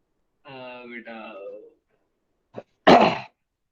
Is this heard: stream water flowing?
no